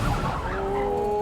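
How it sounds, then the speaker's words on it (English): A supercar locks a brake into the hairpin on a slippery track, giving a steady, loud tyre squeal with a clear whining tone under continuous engine noise. "Coming down near the hairpin, a bit too much brake pressure and a slippery track, and just locked a brake"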